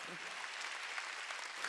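A church congregation claps together during a Wednesday worship service at a Korean church, a steady wash of hands that stays even throughout.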